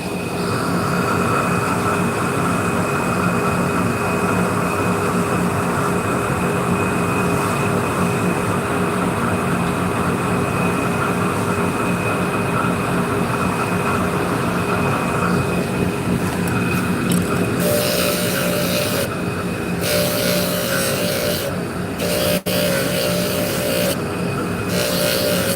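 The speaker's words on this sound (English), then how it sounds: "it's just an old, you know, blower motor" An old blower motor with worn bearings running continuously: a loud, steady mechanical roar with a constant hum. Toward the end, sharp bursts of higher hiss and rattle cut in and out.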